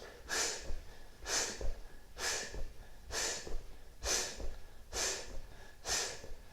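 Someone doing a yoga exercise breathes in a steady rhythm: about seven forceful, airy breaths spaced roughly a second apart. The breaths are close and clear against a quiet background.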